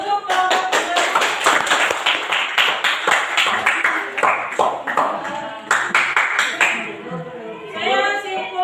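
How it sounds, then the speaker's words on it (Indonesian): Students in a junior high school Indonesian-language classroom clap together for the second group, a dense burst of sharp handclaps filling several seconds before tapering off into faint voices. "berikan aplaus untuk kelompok kedua"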